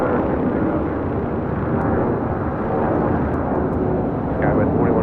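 An airliner taking off from runway 25 right at LAX, a loud continuous engine roar and rumble filling the whole stretch, with faint radio voices underneath.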